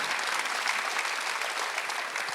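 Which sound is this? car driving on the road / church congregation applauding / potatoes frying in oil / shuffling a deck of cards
church congregation applauding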